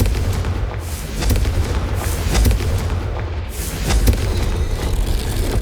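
Confringo fire-explosion spell in the video game Hogwarts Legacy, heavy booming blasts and rumbling detonations with crackling bursts, loud and continuous over a low roar, no talk.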